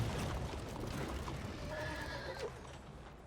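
A horse in a Red Dead roleplay game gives a clear neigh against steady background noise, with hooves clip-clopping alongside it.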